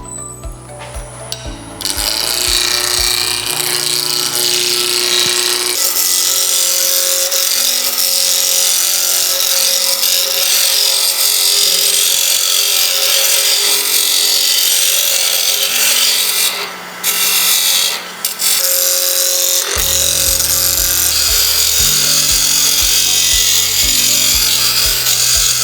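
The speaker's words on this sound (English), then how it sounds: "This is a spindle blank, so we can use a spindle roughing gouge to round it off." A spindle roughing gouge rounds off a wooden spindle blank for a carving mallet on a spinning lathe, giving a steady, loud scraping and rasping cut that runs almost the whole time with brief dips and a motor hum underneath.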